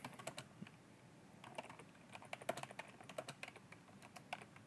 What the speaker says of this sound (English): And if I then type out the command again